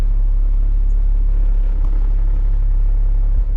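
An expedition truck stuck in mud runs its engine, a loud, close, deep rumble that holds steady with slight rises as the throttle is pressed.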